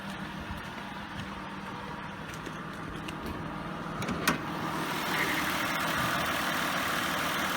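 A 1994 Acura Legend Coupe LS Type II with a stock 3.2-liter V6 and 558,000 miles idles with a low, steady rumble, heard up close. A brief click sounds partway through, and the engine note swells slightly toward the end.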